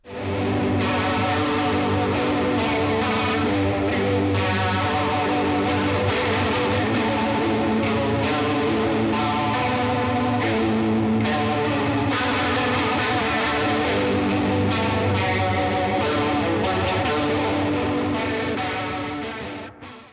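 A distorted electric guitar plays continuously through a Universal Audio Dream 65 amp modeler pedal with chorus and echo, loud and dense throughout before trailing off at the end.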